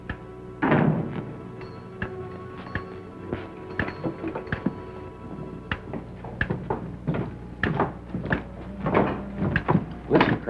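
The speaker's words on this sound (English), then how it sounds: "And close the door after you." A door bangs shut indoors in an old western film scene, a single solid thud followed by a series of scattered knocks, footsteps and clatter, fairly close.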